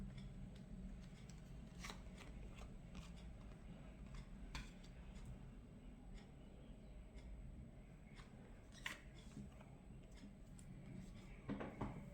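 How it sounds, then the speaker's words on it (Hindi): Tarot cards are shuffled and squared up on a surface for a reading, giving soft, close riffles and scattered light taps and clicks at a low, quiet level with no one speaking. "पहले मैं कार्ड्स को ना ठीक से रख लेती हूँ"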